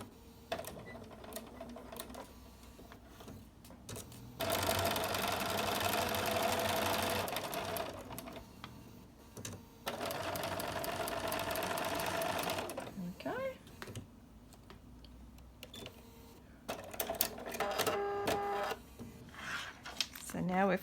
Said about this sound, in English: And then we'll sew across.